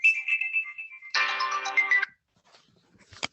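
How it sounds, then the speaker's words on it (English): Mobile phone ringtone plays alone, a steady tone followed by a brighter, busier melodic burst, then cuts off into near silence with a couple of faint clicks. "My phone's just gone off."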